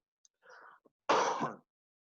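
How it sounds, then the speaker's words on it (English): A single cough during a vocal exercise, preceded by a soft breathy intake, then one short, fairly loud, close burst with nothing else around it. "The second one is to cough."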